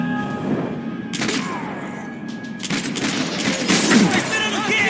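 Rapid bursts of gunfire crackle in Max Payne 3, dense fusillades erupting in loud clusters with sharp impacts, interleaved with shouting voices and game sounds.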